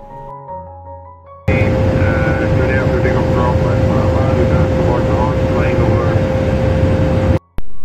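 A loud, steady roar fills the cabin of an airplane in flight from Islamabad to Skardu, with a constant engine drone and a fixed tone. It cuts in abruptly after a quiet moment, and faint voices sit underneath.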